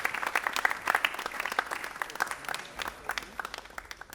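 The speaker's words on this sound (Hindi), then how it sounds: "ज़ोरदार तालियों से" Applause from an audience at an Urdu drama festival in Delhi rings out after a stage play, a dense patter of many hands clapping that fades a little toward the end.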